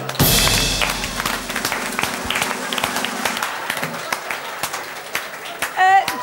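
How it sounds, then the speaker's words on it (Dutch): Warm applause from a village variety-evening audience, a full, loud burst of clapping at the start that carries on steadily, with thumps and a few voices mixed in near the end. "Een warm applaus voor ons Joelleke."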